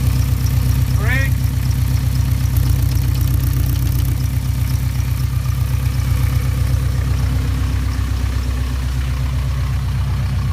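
A VW T3 Syncro van idles and rolls with a steady low engine drone and a rhythmic pulsing rumble from the transmission under deceleration and braking, continuous and close, with a brief squeak partway through.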